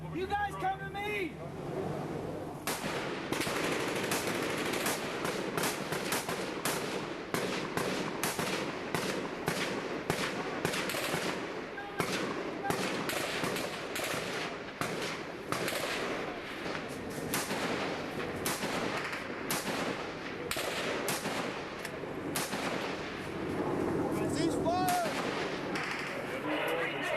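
Covering fire in a war film set in Afghanistan: dense, sustained bursts of rifle and machine-gun fire crackle without pause over a long stretch, mixed with distant booms and shouted voices in the background.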